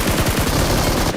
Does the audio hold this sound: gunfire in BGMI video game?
yes